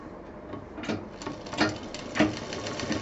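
Sewing machine stitching the edge of patchwork fabric with a piping-like seam, a close, steady mechanical chatter in short bursts with needle thumps, without talk.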